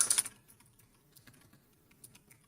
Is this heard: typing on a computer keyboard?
yes